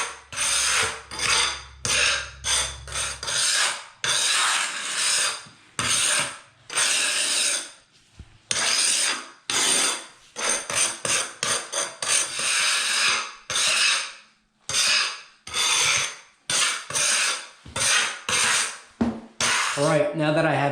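A pointing tool scraping grout into floor tile joints, with repeated rough, close scraping strokes in uneven bursts separated by short pauses.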